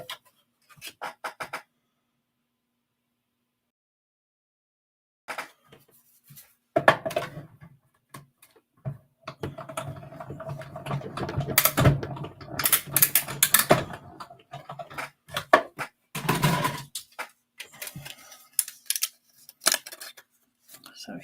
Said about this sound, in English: I'm going to run it through my die cutting, my cut and emboss machine. And I'm going to cut that out.